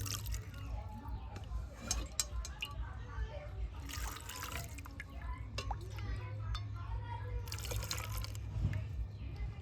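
Cooled salt water is poured into a jar of raw mangoes, giving a soft, continuous liquid pour with trickling and a few drips, heard close under a low steady hum.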